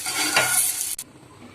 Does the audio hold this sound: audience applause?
no